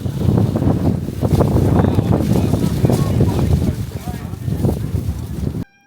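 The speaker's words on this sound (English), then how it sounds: "That is so windy." Heavy wind buffets the microphone in a dense, low roar for about five seconds before cutting off abruptly, with muffled voices faintly mixed in.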